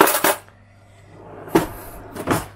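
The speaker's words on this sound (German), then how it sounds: "man kann das weiter ausziehen als normal, weil ich hier von einem Werkzeugschrank so Schwerlastauszüge benutzt habe" A homemade drawer on heavy-duty tool-cabinet slides being pulled out in a self-built kitchen, with sharp wooden clunks at the start and end and a low rolling glide between, close and fairly loud.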